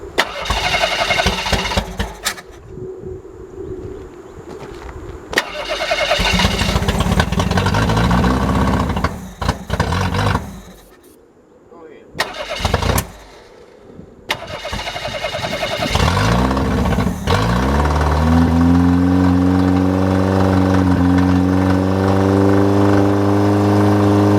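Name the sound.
junkyard Ford EXP engine starting and running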